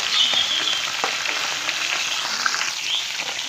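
Fish fries in a pan with a loud, continuous hissing sizzle, steady and close, with no talking.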